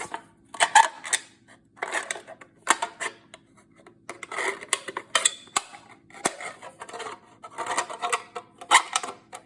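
Craft scissors cut an aluminium soda can: repeated crisp clicking snips and metallic crunches come in irregular bursts, close up, with quiet gaps between cuts and no talking.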